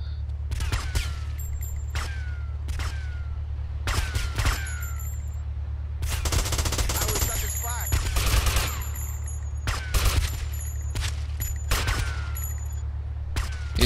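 Gunfire crackles in a GTA Vice City shootout, sharp individual shots and quick bursts scattered irregularly over a steady low engine-like drone, with a denser volley in the middle.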